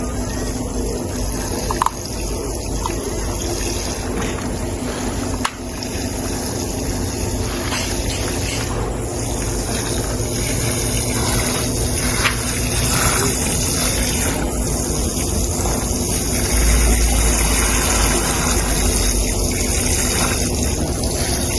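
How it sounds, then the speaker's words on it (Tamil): Water sprays from a pump sprayer over seed packets in a plant nursery, a steady hissing gush with small sputters that carries on throughout at a fairly loud level. "போட்டு தண்ணி வந்து இந்த மாதிரி தான் அடிக்கணும் ஸ்ப்ரேல"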